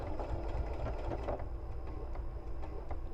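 A sewing machine stitches paper-pieced quilt blocks with a fast, steady mechanical whir and rattle, close and continuous for the whole stretch.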